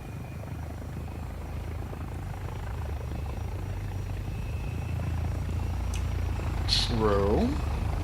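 A helicopter with a damaged tail rotor in War Thunder keeps up a steady, loud rotor drone that swells slightly, with brief sharp game sound effects near the end.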